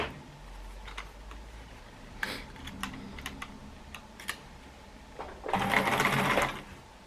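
A sewing machine stitches quilt pieces together in short bursts of rapid mechanical clatter, quiet and close, ending in a longer sustained run of stitching.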